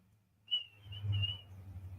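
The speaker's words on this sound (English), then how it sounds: "He's whistling for a dog that can't hear." A person whistles for a deaf dog: one brief, fairly faint whistle over a low background rumble, with no talking.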